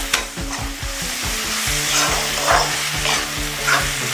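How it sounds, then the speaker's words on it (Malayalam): Onion, ginger and garlic sautéing in a pan while being stirred, a loud close continuous sizzle with repeated rhythmic scraping strokes of the spoon against the pan, no voices. "ഇത് ഈ ഇഞ്ചി വെളുത്തുള്ളിയും കൂടെ ആ പച്ചമണം മാറുന്നവരെ നല്ലോണം ഒന്ന് ഇളക്കി വഴറ്റിയെടുക്കണം."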